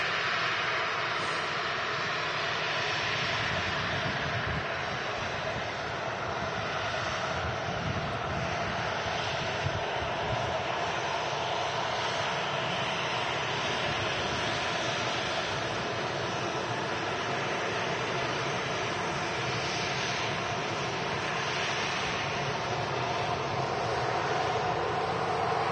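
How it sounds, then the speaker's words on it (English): A Jet2 Airbus A321neo on approach to land at Manchester Airport, its engines giving a steady, broad roar that holds without a break for the whole stretch, with no one talking. "There you go, Jet2 A321 on the south side."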